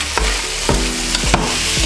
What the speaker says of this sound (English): Remember, it's just basically sauteing in olive oil.